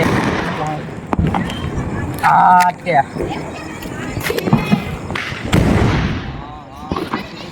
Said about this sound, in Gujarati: આ રહ્યો છે ત્રણ ધડાકા